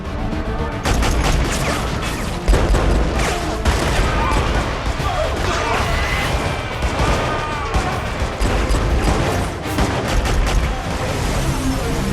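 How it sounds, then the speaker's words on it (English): Heavy gunfire rages through a film firefight between cartel gangsters and police, with dense, rapid bursts of shots and loud cracks layered continuously over a chaotic background with voices mixed in. "A firefight begins"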